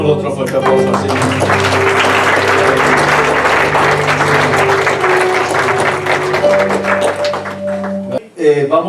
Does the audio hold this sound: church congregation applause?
yes